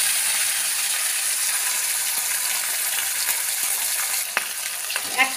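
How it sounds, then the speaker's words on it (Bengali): Bhut fish fries in a pan with a loud, continuous crackling sizzle that runs unbroken, with a few sharper pops and clinks near the end. "আর এই যে এই মাছ ভাজবো এখন, ভূত মাছ"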